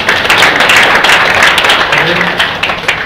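Audience clapping hands together at a seminar, a dense steady patter that fills the whole moment, with chatter and voices mixed in underneath.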